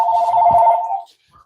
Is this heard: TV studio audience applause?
no